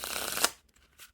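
House of Tudor playing cards fanned out in one quick, close riffling sweep that ends in a sharp flick, followed by near silence.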